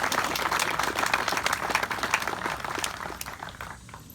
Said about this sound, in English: I would like for y'all to give yourself a hand of applause. Yeah, round of applause.